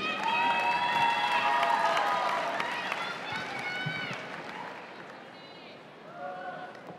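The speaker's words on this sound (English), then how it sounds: "Let's have another round of applause for Kennedy." A youth talent show audience at a state FFA leadership conference cheers and claps after a performance, loud excited shouts and whoops over applause that gradually tapers off, with a few voices rising again near the end.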